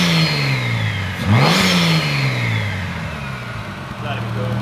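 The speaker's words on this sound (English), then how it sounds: "turbo sounds good. Turbo sounds like it should be very responsive." A turbocharged Nissan R31 engine gives one sharp rev, climbing quickly from a steady idle, peaking, then sliding back down to idle, loud and close.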